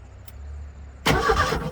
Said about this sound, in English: Now this should start the motor.